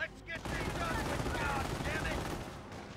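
A Calliope rocket barrage and rifle fire in Company of Heroes roar as a dense, continuous rumble of blasts and crackling shots, with a voice talking over it.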